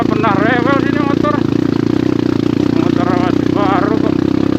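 A motorcycle rides a hilly rural road in Banten, Indonesia, its engine a loud steady drone with wind rush throughout, while a rider talks over it.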